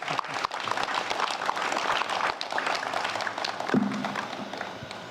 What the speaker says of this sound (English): Now, a big round of applause for the beautiful bride.